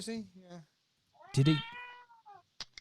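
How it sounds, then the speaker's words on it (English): A cat meows close by a couple of times, a short drawn-out cry between stretches of casual conversation during a two-man poker show, with voices talking before and after it. "Is that somebody's cat?"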